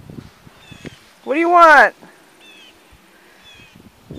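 A house cat that has just jumped out a window meows once in a drawn-out, rising-and-falling cry. A person talks to it before and after.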